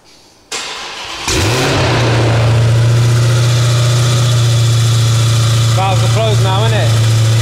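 A Dodge Hellcat with a straight-piped Armytrix exhaust cranks and fires into a loud, close idle with a deep steady drone, then blips through a couple of sharp revs near the end, with a voice briefly audible.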